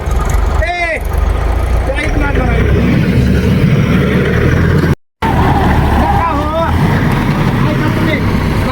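A tractor stuck in thick mud strains its engine in a loud continuous rumble, with shouting voices and chatter over it and a brief cut midway before the labouring drone resumes.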